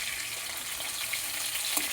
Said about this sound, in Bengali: এভাবে সব মাছগুলো ভেজে তুলে নেব।